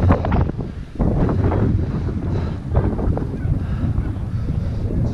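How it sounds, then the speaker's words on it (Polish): Strong wind buffets the microphone in a rough, continuous roar at an Armenian village in Georgia, gusting unevenly throughout. "Tylko ten wiatr."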